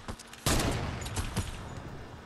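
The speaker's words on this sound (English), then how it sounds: "He's really hitting me with his SMG." A burst of SMG fire in a Fortnite match, a loud rapid stream of shots that starts abruptly and keeps rattling with a few sharper cracks, close by and with no talk over it.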